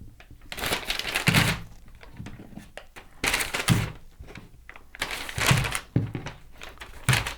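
Unwashed, soil-covered potatoes, about 500 g, dropped and shuffled into a paper bag that is then folded shut, giving repeated papery rustles, crinkles and dull thunks in several bursts, close and fairly loud.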